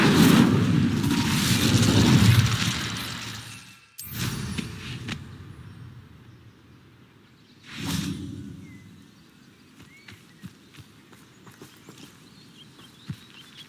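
An Incendio fire spell cast in Hogwarts Legacy bursts out as a loud whooshing boom, followed by two more sudden bursts that fade into quieter rustling and scattered ticks.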